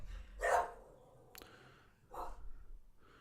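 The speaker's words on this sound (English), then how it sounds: "My apology, that's the dogs." A dog gives two short, muffled barks or woofs about a second and a half apart, fairly close but soft, with a faint click between them and a quiet background.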